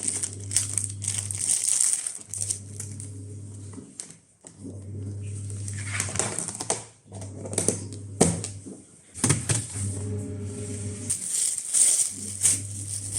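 Plastic grocery bags crinkle and rustle during fridge cleaning, in close, repeated bursts of crackling handling over a steady low hum from the open refrigerator.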